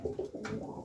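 Racer pigeons coo softly in a few short, throaty bursts close by, with no voices.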